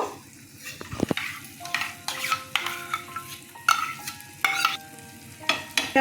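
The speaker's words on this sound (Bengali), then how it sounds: "ভালো করে টক দইটা মিশিয়ে নিয়ে এই অবস্থায় গ্যাসে এটা কিন্তু সিমে রেখে দেব।" Sour yogurt being stirred into egg korma in a hot pan: a quick series of scraping, clacking spoon strokes over a soft sizzle, close-up and without talk.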